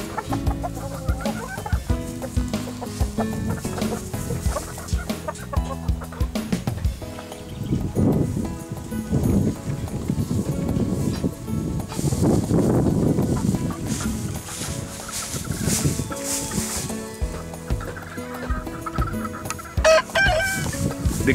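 Hens cluck continuously in a chicken tractor coop on a Philippine farm, a busy overlapping chorus of close clucks and squawks, with a rooster crowing now and then and no talking.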